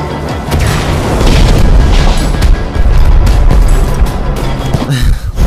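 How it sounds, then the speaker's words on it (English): Fireworks burst in Minecraft: Story Mode, a dense run of loud booming explosions and crackling rumbles that fills the whole stretch with little pause, no voices over it. "Fireworks!"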